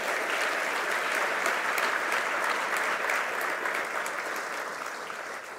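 Sustained audience applause fills the hall at the 2019 AHL Hall of Fame induction and awards ceremony, an even, dense wash of clapping from a large crowd that holds steady and eases slightly toward the end.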